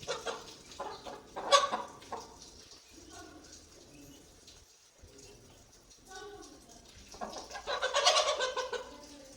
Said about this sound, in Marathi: आपल्याकडे गावरान कोंबडा आहे